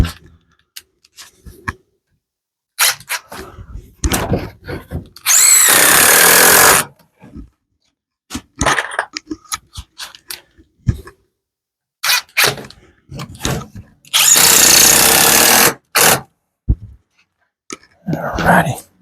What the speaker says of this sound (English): And then put my screws in.